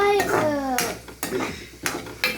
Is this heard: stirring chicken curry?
yes